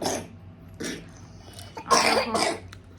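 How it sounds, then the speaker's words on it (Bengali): A child coughs in several separate bursts, with a louder, harsher pair of coughs toward the end over a quiet room background. "সোনার কিন্তু এখনো কাশিটা কমেনি কাশি আছে"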